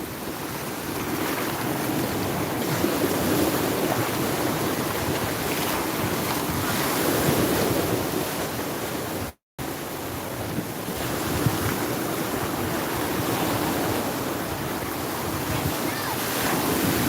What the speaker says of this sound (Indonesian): Ombaknya guys. Bagus.